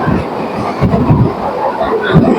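A local train between Bongaon and Ranaghat rattles and rumbles loudly from close by, with rhythmic clacks and a metallic hum throughout.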